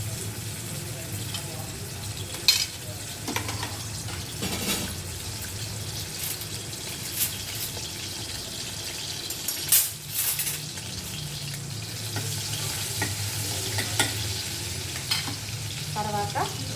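Ginger garlic paste fries in a pan for goat brain curry, sizzling steadily throughout while a spoon stirs and scrapes at intervals, with occasional clinks close by.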